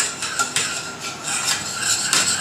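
A spoon scraping and stirring risotto in a pan after cream and parmesan are added, with soft repeated scrapes and clinks of utensil on metal, close and steady, with no talking.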